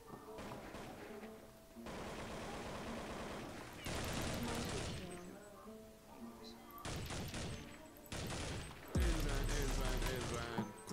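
M4 rifle fire in an online shooter game comes in sustained bursts of automatic shots, mixed with layered game sound effects at moderate loudness.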